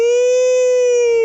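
A voice imitates a high-pitched siren sounded at dawn for the fasting cutoff, one loud sustained steady tone held alone for just over a second.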